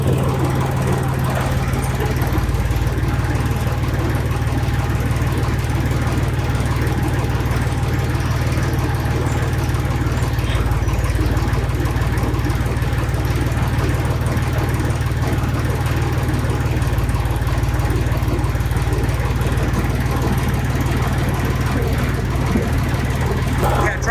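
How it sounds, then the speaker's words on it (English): A heavy tractor engine drones loudly and steadily at idle throughout, a constant low rumble close by with no break, as it prepares to back out carrying a fire truck subframe. "Subframe is on the tractor and it's ready to back out of here"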